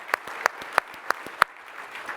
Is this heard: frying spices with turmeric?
no